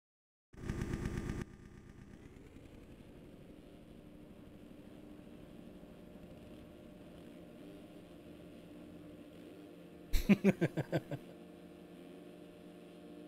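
Motocross bikes sit idling on the start gate before an amateur moto at the St Jude Race For The Kids: a steady, close engine drone opens with a short loud burst and is punctuated near the end by a quick flurry of throttle blips.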